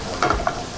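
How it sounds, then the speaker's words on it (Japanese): Onions stir-frying over medium heat in a pot for a homemade macaroni gratin, with a soft sizzle and a couple of quick scraping stirs, close and brief. "で玉ねぎもこう炒めていきます"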